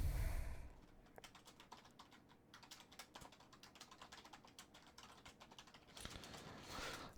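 A chat message is typed on a computer keyboard in quick, uneven runs of soft, close key clicks that last several seconds, with no voices.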